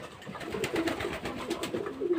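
Pet pigeons kept at home coo softly in repeated low, rolling calls, close by and alone without talk.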